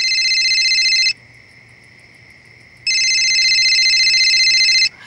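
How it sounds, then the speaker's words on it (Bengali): A mobile phone ringing at night in a home, a loud electronic ringtone in two long bursts separated by a quieter gap, heard alone. "না, তোমার ফোনটা বাজছে। এত রাতে আবার কে ফোন করলো?"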